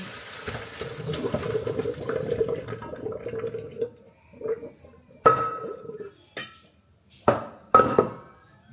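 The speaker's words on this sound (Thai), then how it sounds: "เราก็จะเทน้ำตรงนี้ทิ้ง" Water poured out of a cooking pot in a home kitchen, a continuous splashing pour lasting several seconds, followed by a few sharp clinks and knocks of the pot being set down.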